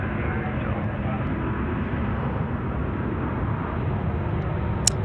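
A Qatar Airways A380 airliner rolling for takeoff on runway 34 left at Sydney Airport, giving off a steady, continuous engine roar that holds at an even loudness throughout.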